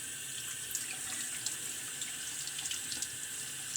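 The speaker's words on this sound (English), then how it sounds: "I'm trying to rinse the suds out of the back here." Tap water runs steadily into a sink while shaving suds are rinsed from a vintage Eagle lather-catcher razor, with small splashes and spatters breaking through the constant hiss.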